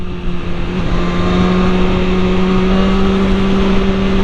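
A 2018 BMW S1000RR motorcycle ridden through city traffic on a ring road, its engine holding a loud, steady, buzzing note close up with wind rush, and no talking.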